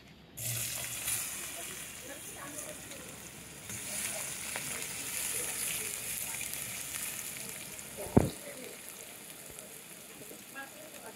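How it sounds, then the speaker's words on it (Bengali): Potatoes frying in a pan give a steady, fairly quiet sizzle throughout, with one brief sharp knock near the end. "আলুটা ভেজে নেব।"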